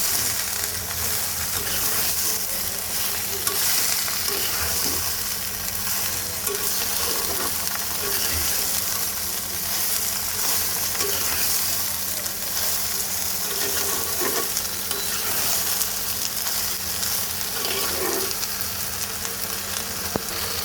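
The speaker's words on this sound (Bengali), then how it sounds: "তো এই আমি লাউ আর মটরশুঁটিটা দিয়ে দিলাম দিয়ে দেব কাঁচা মরিচ এইবার সব কিছু সুন্দর করে মিক্স করে দেবো" Bottle gourd, peas and green chillies are stirred in hot oil in a pan, giving a constant, dense sizzle with faint scraping and clicking of the spoon throughout; close and unbroken.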